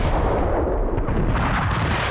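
Heavy shotgun blasts in Max Payne, a dense, loud barrage of booming gunfire filling the whole moment with no gaps, close and overwhelming.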